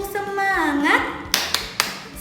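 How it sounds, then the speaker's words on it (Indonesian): A classroom of children chants a rhythmic 'tepuk semangat' cheer in unison, the voices ending in three sharp, close hand claps at an accelerating pace. "Tepuk semangat."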